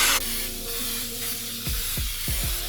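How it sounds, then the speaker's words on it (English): Baker's Joy baking spray with flour in it is sprayed into a bundt pan: a loud, steady close hiss runs almost unbroken, then a few low thumps sound near the end. "Go ahead and get your bundt pan, spray it on down with some Baker's Joy."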